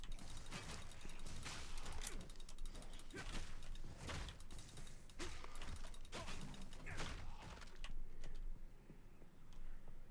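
A 3D printer prints an air compressor adapter for a brushless vacuum, giving off a continuous busy run of clicking, ratcheting stepper-motor mechanism noise that thins out near the end.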